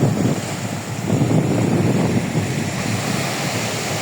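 Sea waves washing ashore at Patenga beach in Chittagong, a continuous loud roar of surf mixed with heavy wind buffeting the microphone, with no voices.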